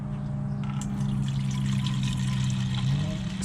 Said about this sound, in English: I'm gonna fill out my sprayer with some really concentrated all-purpose cleaner